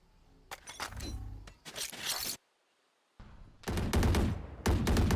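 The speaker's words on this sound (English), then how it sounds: "Exchanging gunshots at C." Rapid bursts of Valorant gunfire crackle in quick volleys during a league match, broken by a brief silence before more loud shooting resumes.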